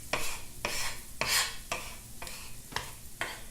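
Garlic cooking in butter and olive oil in a pan, with repeated scraping stirs at a regular pace, about six strokes over a soft sizzle, close by and with no voices.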